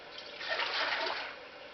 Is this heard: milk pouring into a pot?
yes